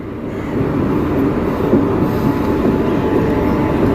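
A WAP-4 electric locomotive from the Vijayawada shed pulls the Mangaluru–Coimbatore Intercity Express into the station with a loud, steady rumble of wheels and cars rolling past close by.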